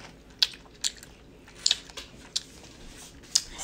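Several sharp crunchy bites into a strawberry dipped in chocolate, close and distinct, about six crisp snaps spaced unevenly over quiet background.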